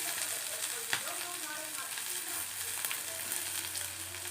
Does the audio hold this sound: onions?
yes